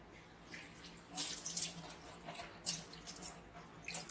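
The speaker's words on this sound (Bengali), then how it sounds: "জল কিন্তু একদম পুরো ভাইজারের উপর থেকে বেরিয়ে চলে যাচ্ছে।" Water is poured over a motorcycle helmet visor treated with rain-repellent coating, making a soft, close splashing and trickling with a few louder gushes, faint overall and without talk.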